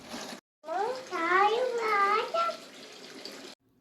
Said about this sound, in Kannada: ಅವಳೇ ಸ್ನಾನಕ್ಕೆ ನೀರು ಬಿಟ್ಕೊತಾ ಇದ್ದಾಳೆ.